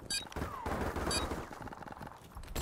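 Rapid gunfire from the Call of Duty Modern Warfare Remastered video game, dense bursts and shots layered together, loud and busy with game effects throughout.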